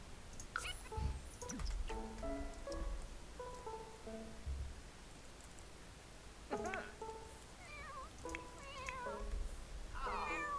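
A cat meows repeatedly in The Sims 4, a run of plaintive, drawn-out cries with rising and falling pitch, clear and close over quiet background game sound.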